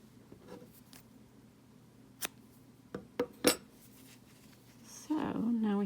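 Scissors snip through crochet yarn ends on a ladybug appliqué patch in a few quick, close, crisp cuts over quiet room tone, followed by brief rustling.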